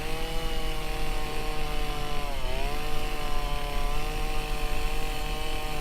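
Chainsaw carving a wooden gnome, trimming away wood to shape the cheeks and eye areas; the engine drones loud and close without a break, its pitch dipping briefly midway as the bar bites into the wood.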